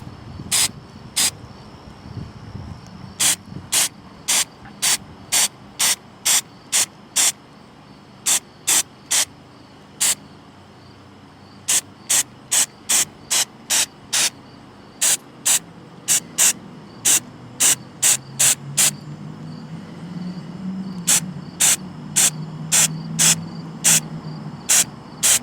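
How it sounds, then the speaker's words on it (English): A spray paint can fires dozens of sharp, short hissing blasts in an uneven rhythm, close and loud, with brief pauses between bursts and a low rumble of background noise. "Spray paint both sides, wait 4 hours, then give it another coat."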